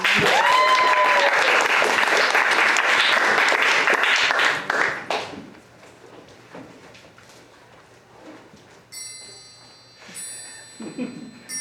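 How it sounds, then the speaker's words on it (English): Loud, dense applause from an audience at an old-time bluegrass show, strong for about five seconds and then fading out quickly into quiet room noise with a few faint scattered sounds. "Give us a round of applause."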